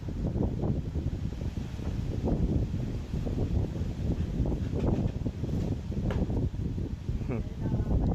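Gusty strong wind buffets the microphone in a steady low rumble among coconut trees, with rustling and faint voices underneath.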